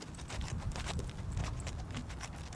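A young horse walks in a circle, its hooves clip-clopping in a steady, even rhythm, fairly faint and close with a soft background rumble.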